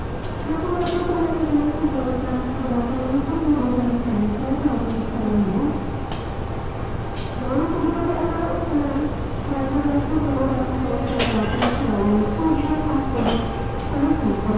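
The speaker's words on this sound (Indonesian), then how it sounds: "lokomotifnya baru saja dilangsir ya. Dan ini akan segera dipasangkan dengan rangkaian." A CC201 diesel locomotive idling as it is shunted and coupled to passenger carriages, a steady low engine drone with a few sharp metallic clanks scattered through.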